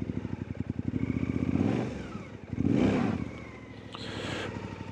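A Suzuki DL800DE motorcycle engine revs in close, loud surges, rising and falling twice with a rough, clattering idle between the bursts.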